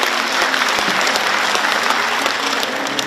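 A large audience at a book-launch event in Gwangju gives sustained, dense applause to welcome guests, loud and continuous, with no talking.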